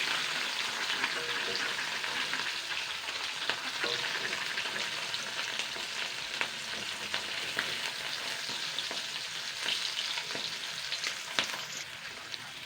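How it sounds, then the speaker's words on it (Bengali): Fish fries in hot oil in a pan for a Bengali fish curry, a loud, continuous sizzle with faint crackles throughout and no talking. "মাছের কিন্তু এক সাইড হয়ে গেছে ভাজা হয়ে গেছে এবার আমি উল্টে দেবো এটাকে এভাবে"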